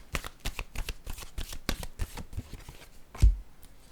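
Tarot cards being shuffled in a series of quick, crisp riffling bursts, close and clear, ending with a soft thump as the deck settles.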